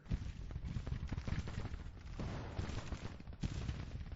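Dense, continuous battlefield gunfire and artillery from a Civil War–era Confederate campaign battle in the Grand Tactician strategy game, with overlapping musket volleys and booming cannon shots rolling on throughout, no talk.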